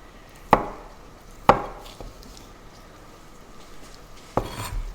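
A knife cuts blemishes out of beetroot on a board, with three crisp chopping knocks, two close together and a third after a pause, plus faint scraping in a quiet room.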